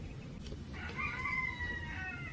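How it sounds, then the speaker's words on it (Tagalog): A rooster crows amid chickens, a drawn-out tonal call rising and holding for about a second, moderately distant over low background noise. "Umaayon ang mga manok."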